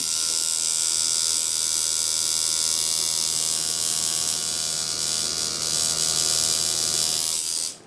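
Close, steady high-pitched buzz of a tattoo machine running while lining a tattoo, holding evenly for several seconds before cutting off at the end, with no talk over it.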